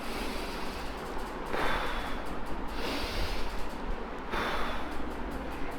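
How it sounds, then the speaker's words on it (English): Deep breathing is demonstrated up close, with slow loud breaths in and out repeating about three times at an even pace, no talking. "your breathing must be deep"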